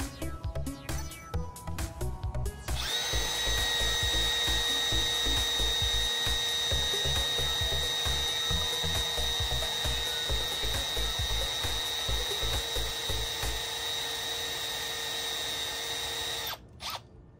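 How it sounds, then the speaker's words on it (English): Power drill boring a pilot hole and then driving a screw into a sway bar on a 5th-generation 4Runner, a few short trigger bursts followed by a long steady whine with ratcheting clicks, close and loud, stopping abruptly near the end. "We're going to go ahead and do a pilot hole and then eventually screw it down."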